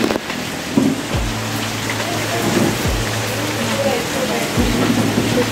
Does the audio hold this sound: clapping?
no